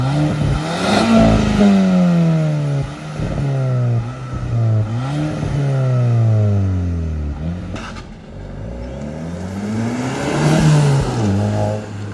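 Repeated revs from a nearby Volkswagen Eos engine with its exhaust resonator deleted climb and drop in pitch, with a deeper, rumbling exhaust tone between bursts.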